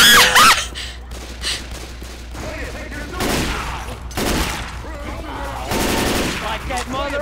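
Rapid bursts of automatic gunfire and fusillades aimed at the Tank in the zombie shooter Left 4 Dead 2, loud and continuous across several waves, with shouted voices mixed in.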